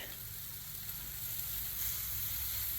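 Teriyaki chicken sizzles on a Blackstone griddle, a steady close crackling hiss that holds evenly throughout with no talk over it.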